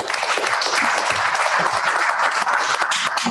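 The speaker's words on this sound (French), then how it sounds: "On vous remercie tous et on vous applaudit." A room full of people claps steadily, a dense wash of applause at moderate volume without letup.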